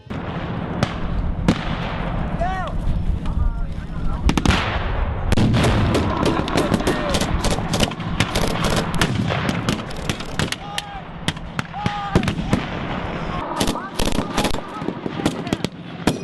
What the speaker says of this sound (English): I love that MG42 firing blanks.